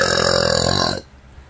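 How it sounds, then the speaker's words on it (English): A loud, close, drawn-out burp rumbles for about a second, then cuts off abruptly into near quiet. "I'm burping here."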